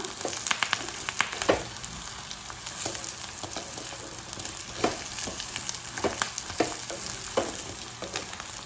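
Fried egg fritters for street-style egg 65 are stirred in a frying pan, a constant bright sizzle punctuated by irregular clicks and scrapes of a spoon against the pan, close up with no speech.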